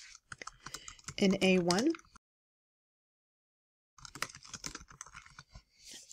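Keys clatter on a computer keyboard in quick, uneven bursts while a person speaks over them, then a silent gap, then more close typing resumes.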